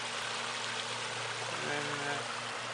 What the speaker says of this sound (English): This is another view of the waterfall.